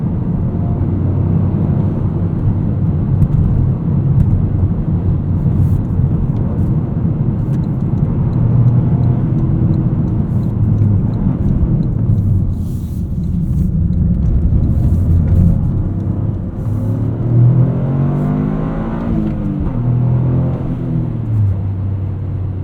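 A 2023 Toyota GR Corolla accelerates hard on a wet road, its engine a loud, steady rumble from inside the cabin that rises in pitch toward the end as it revs up.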